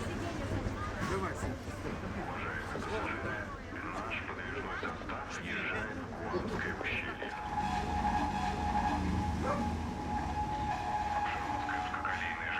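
Narrow-gauge railway train running on the Apsheron line in Russia, a steady rumbling rail roll with rattling wagons throughout, a sustained whine appearing midway, and people talking over it.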